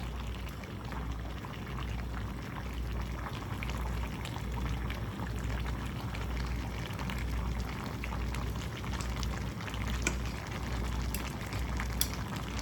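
One pot Jamaican chicken and dumpling stew with pumpkin, corn, potato, okra and squash simmering on a stove, a steady soft bubbling and crackle with a low hum beneath, faint and continuous.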